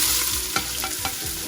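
Onions sizzle in hot oil in a pan for biryani with a steady hiss, broken by a few stirring scrapes; no voices.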